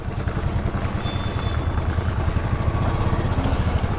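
A motorcycle engine runs steadily at close range, a low, even, throbbing idle with light mechanical clatter and no voices.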